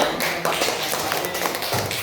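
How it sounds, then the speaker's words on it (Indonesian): A classroom group applauds group D with brisk, continuous clapping from many hands, loud and close for the full two seconds. "Silakan beri tepuk tangan buat kelompok D"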